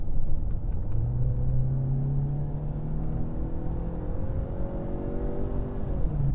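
A Mercedes C180 W205 running on a Prins LPG kit revs up, its engine rumble rising in pitch and then easing back, heard close and steady with no talk.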